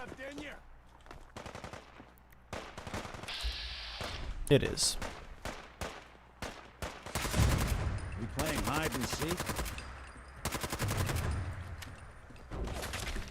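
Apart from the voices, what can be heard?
gunshots and gunfire from Fallout 4 video game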